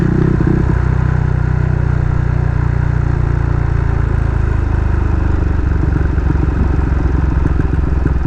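A Yamaha Sniper Classic 135 motorcycle rides along a dusty road, its engine a steady close rumble with rising revs and rattling clatter toward the end, no voices.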